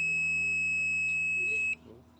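An appliance showing an E1 error sounds a steady, high electronic buzzer tone for almost two seconds, then cuts off abruptly, leaving a low hum behind.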